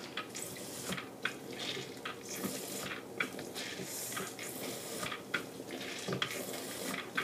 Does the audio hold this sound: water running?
yes